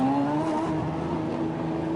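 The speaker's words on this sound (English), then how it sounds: "So the car will be dropped down, and the engine has to fire up from the pit apron." A GT race car's engine runs at the pit apron during the 24 Hours of Spa endurance race in 2011, its humming tone climbing steadily in pitch as it pulls away, at moderate distance.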